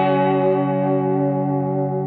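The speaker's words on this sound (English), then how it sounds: "The subtle vibrato by moving the tremolo arm up and down." Harp guitar fitted with a Bigsby pedal tremolo, a sustained chord gently quivering in pitch from a subtle up-and-down vibrato, steady, full and fairly loud throughout, with no voices.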